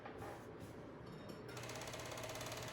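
A serger sews the inseam of scrubs pants cut from upcycled bed sheets, giving a steady fast mechanical whir that runs throughout and grows a little brighter partway through, with no talk over it.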